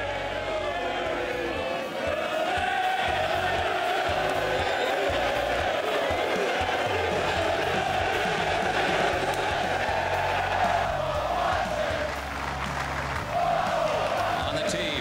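A large Ryder Cup golf crowd at the first tee roars and cheers nonstop, with whoops and applause in a loud, dense wash of many voices.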